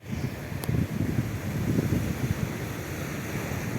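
Sea waves at Perumathura beach wash in a low, steady roar mixed with wind buffeting the microphone, close and continuous with no voices.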